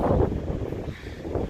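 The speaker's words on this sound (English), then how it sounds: "really windy spot to put my tent" Wind gusting at an Appalachian Trail hiking shelter with tents pitched nearby, a steady loud rushing and buffeting close to the microphone throughout.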